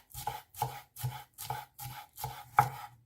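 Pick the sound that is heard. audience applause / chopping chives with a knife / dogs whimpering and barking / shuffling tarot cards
chopping chives with a knife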